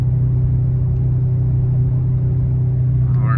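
A 4-cylinder 2024 Toyota Tacoma towing a tractor down a steep hill, engine droning loud and steady with a low rumble as the transmission gears down, heard from inside the cab with no talking.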